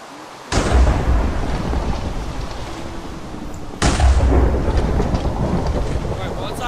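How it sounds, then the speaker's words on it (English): Thunder from a lightning storm in Minecraft: two sudden loud cracks, each rolling into a long rumble, over a steady rain-like hiss. "Getting struck by lightning so much."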